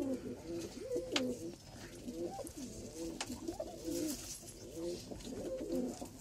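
Pigeons in a loft give soft, repeated throaty coos in a steady rhythm, with a faint brighter chirp now and then.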